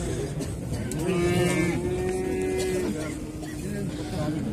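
Cattle at a livestock market in Özgön bellow with several drawn-out moos, one long call standing out at close range amid steady market bustle and murmuring voices.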